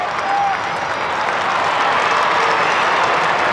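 A large crowd at a 1997 Australian football match between St Kilda and North Melbourne roars and applauds a goal, a dense, sustained wash of cheering and clapping that holds steady throughout.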